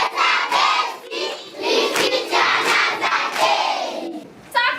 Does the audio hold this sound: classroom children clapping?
yes